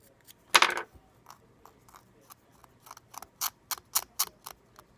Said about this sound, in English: Scraping it off seems to be working.